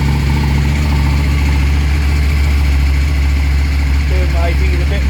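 KTM 790 Adventure motorcycle engine idling steadily with an aftermarket pre-filter fitted, a loud, continuous throaty rumble at close range with no break across the clip.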